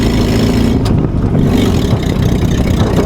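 A WWII jeep engine pulls hard in third gear with a loud, steady, rough mid-range drone that barely varies, heard close up throughout.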